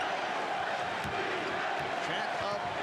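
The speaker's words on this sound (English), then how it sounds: "Chant of defense from this capacity crowd." A capacity arena crowd at an NBA Finals basketball game roars with a steady, dense chant of defense, filling the space continuously while an announcer talks over it.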